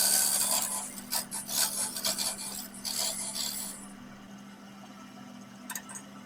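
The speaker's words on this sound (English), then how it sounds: "Final shaping with a scraper." A scraper cuts the inside of an oak lidded box lid spinning on a wood lathe, giving close rasping scrapes in uneven bursts over a low lathe hum, then fading to quieter light contacts.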